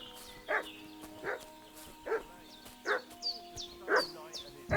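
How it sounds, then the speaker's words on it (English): A dog barks in Kingdom Come: Deliverance 2, giving about six separate barks at a steady rhythm, moderately close, over a faint ambient bed with no voices. "What's that dog making such a fuss about?"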